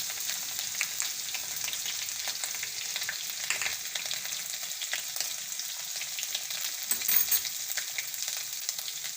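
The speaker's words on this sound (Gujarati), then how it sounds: "તેલ ગરમ થઈ ગયું છે આપણે લસણ નાખી દેવું અને આ આદું નાખી દેવું" Garlic and ginger frying in hot oil with cumin seeds, a faint steady crackling sizzle with light stirring scrapes, fairly quiet throughout.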